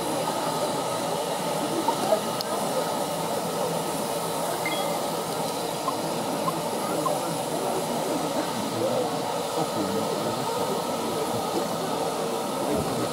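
LNER A3 steam locomotive no 60103 Flying Scotsman passing at Corfe Castle, heard as a steady, moderately loud rolling rumble of wheels and train noise with no clear break, with faint voices around.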